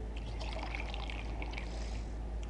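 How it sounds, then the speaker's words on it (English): Distilled water pouring into the cooling system of an overheating Acura, a steady continuous splash and trickle under a constant low hum. "I'm gonna put a little more water in here."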